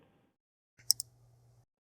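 Two quick, sharp clicks of a computer mouse close up in a quiet room, followed by a faint low hum.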